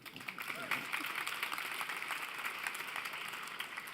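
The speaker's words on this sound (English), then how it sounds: "And I think that deserves a round of applause." A conference audience gives a round of applause, a steady close wash of many hands clapping that holds evenly for several seconds.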